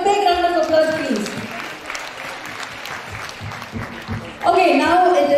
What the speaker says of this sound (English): can you all give him a big round of applause, please?